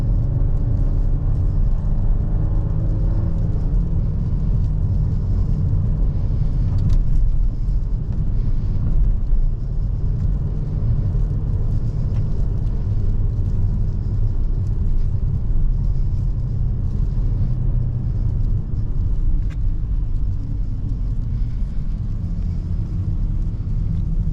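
A 2024 Volvo S60 B5 AWD drives on winter roads, heard as a steady, loud low road and engine rumble from inside the cabin that holds even throughout.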